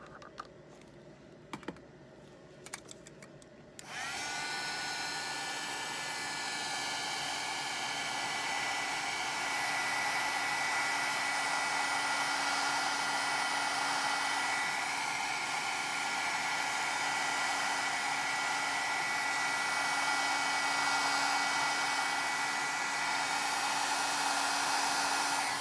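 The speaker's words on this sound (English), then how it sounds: "Then we're going to give it one more spin with the heat gun" A heat gun blows steadily on a tumbler being coated, starting after a few seconds of light clicks and then holding a loud, continuous whooshing roar with a faint hum beneath it, close and with no talk.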